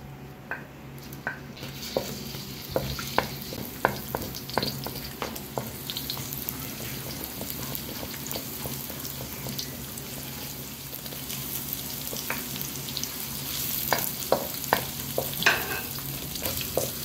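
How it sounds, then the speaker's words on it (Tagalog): Garlic and onion sautéing in a pan for chicken pochero, a steady close sizzle with frequent light scrapes and stirring taps throughout, no talking. "Igisa po muna natin itong bawang and sibuyas."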